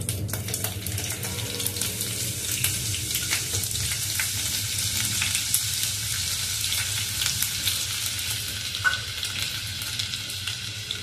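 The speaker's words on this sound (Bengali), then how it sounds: "গরম মশলাটা ভালো করে ভেজে নিয়ে তারপরে আমি এর মধ্যে যে আদার কিমাটা করে রেখেছিলাম সেটা দিয়ে দেবো" Garam masala and minced ginger fry in a pan with a steady, close sizzle and occasional stirring scrapes, continuous throughout with no talking.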